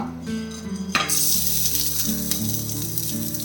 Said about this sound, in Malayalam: തേങ്ങ ഒന്ന് വറുത്തെടുക്കാം.